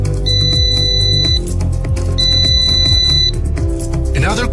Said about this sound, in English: press the left stick on the remote control to start the buzzer of the aircraft